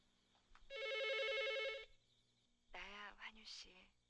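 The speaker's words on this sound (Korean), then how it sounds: "이때 전화가 울리고" A telephone rings in a movie scene, one sustained electronic ring burst, fairly clear, followed by a voice speaking briefly after it stops.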